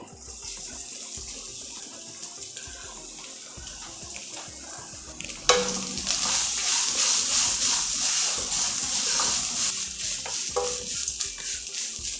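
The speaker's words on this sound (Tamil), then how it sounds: "இதில் பருப்பெல்லாம் நல்லா செவந்துட்டு தேங்காய் போடலாம்." Lentils and grated coconut stir-fried in a pan for coconut sevai, a steady close scraping and stirring hiss with sizzling that grows louder and brighter partway through, no talk.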